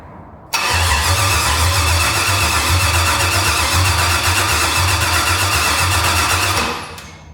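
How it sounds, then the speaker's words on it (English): Starter cranking the engine of a GMC Jimmy with no gas in the tank: a loud, steady, rhythmic churning that runs for about six seconds, close up, then cuts off without the engine catching. "this is going to be the first attempt of, I guess, turning it over to see if the starter functions"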